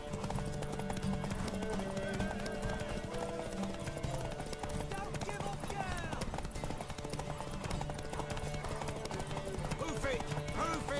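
Galloping horse hooves from The Witcher 3, a steady fast clip-clop racing beneath game music and voices throughout, with a faint whinny.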